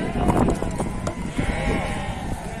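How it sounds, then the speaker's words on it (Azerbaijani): Lambs and sheep bleating at a crowded livestock market in Beylagan, many overlapping nearby calls amid general crowd noise and voices. "Hörmətli izləyicilər, bu belə quzular var."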